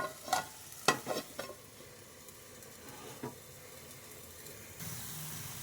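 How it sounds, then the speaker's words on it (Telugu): Spinach curry with onion-chili paste fries in a pan, a soft steady sizzle broken by a few sharp scrapes and knocks of stirring near the start, then a louder hiss toward the end. "ఇలా కొంచెం ఆయిల్ బయటికి వచ్చేంత వరకు వేపుకోవాలి."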